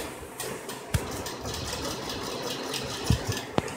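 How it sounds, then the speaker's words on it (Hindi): A sewing machine stitches palazzo pant fabric with a steady, close mechanical whirr of the motor, broken by a few sharp clicks and knocks. "ये मैंने पिन से सेट कर दिया है और अब हम इस पर सिलाई देना शुरू कर रहे हैं।"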